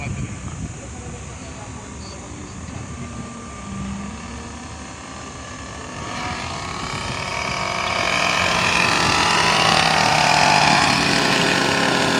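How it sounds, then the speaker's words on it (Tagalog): A helicopter flies over an open field during a birthday celebration at UP Field, giving a steady droning engine hum that swells louder and nearer in the second half, with voices talking in the background. "Hindi ko makita yung helicopter mo eh"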